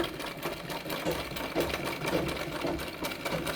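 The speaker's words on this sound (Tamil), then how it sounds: "உங்களுக்காக நான் ஸ்லோவாக தைச்சி காட்டுறேன்" A sewing machine stitches a saree border slowly, its needle giving a fast rhythmic chatter of clicks, close and moderately loud, with no voices.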